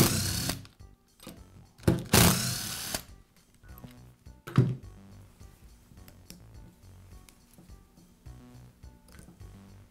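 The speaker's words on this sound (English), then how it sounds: "Next, the two screws that secure the cord clamp." A Porter Cable router cord clamp is worked on with a tool to remove its two screws: short bursts of whirring screwdriving near the start, then quieter clicks and mechanical rattles with no voices.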